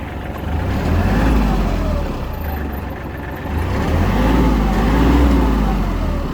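A Kubota GL21 mini tractor with 748 engine hours starting and running, a close, steady low diesel rumble that swells and eases in two waves, with no talk over it.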